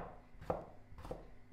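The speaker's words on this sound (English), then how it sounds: "Then we slice in half here, and then again our big pieces." A knife slicing vegetables for caponata on a cutting board, two distinct close cuts about half a second apart, fairly quiet.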